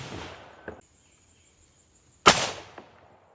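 A single sharp, loud gunshot from an 1860 Colt revolver firing a 20-grain load into wooden boards, a brief crack with a short decaying tail, preceded by a fainter click and a quiet pause.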